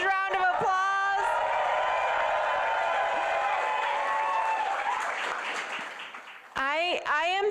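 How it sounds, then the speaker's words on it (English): An election night crowd breaks into loud, sustained applause and cheering that fills the room, fading toward the end as a speaker's voice returns over it. "Let's give ourselves a huge round of applause."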